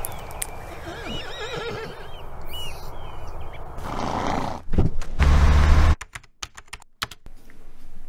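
A horse whinnies in repeated wavering neighs over the first few seconds, loud and close, followed by thumps, rustling and sharp clicking sounds.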